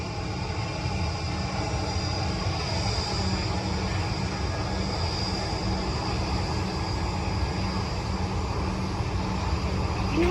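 Jet engine roar at Stansted Airport near an Airbus A321, a loud, steady, broadband rumble and whine that persists without letup, with no speech over it.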